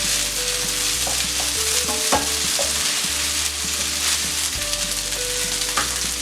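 Schezwan noodles with green onion are stirred in a pan over a constant frying sizzle, with scraping and clattering strokes of the utensil against the pan throughout.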